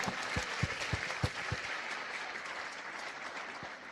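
Applause from the audience at a medical school white coat ceremony in Rwanda, a steady wash of many hands clapping with a few sharp, heavy claps standing out near the start, then fading slightly toward the end.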